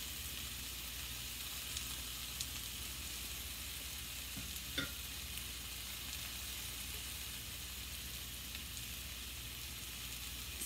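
Pork and sausage frying with salt and black pepper, a steady low hiss of sizzling fat that runs evenly throughout, with a couple of faint clinks of stirring and no voices.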